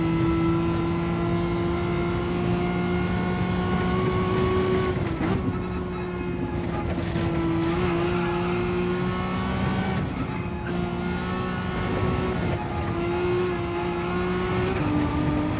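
Race car engine in Gran Turismo 7 during a daily race at Lago Maggiore Reverse, a loud steady engine drone that dips and shifts as the car brakes and pitch changes, continuous throughout with no talk.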